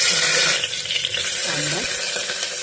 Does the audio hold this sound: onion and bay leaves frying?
yes